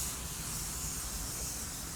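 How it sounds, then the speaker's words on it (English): A spray gun lays a clear coat onto a car panel, a steady, close, continuous hiss of atomized spray running unbroken for the whole stretch. "We'll give it a normal coat of clear over here"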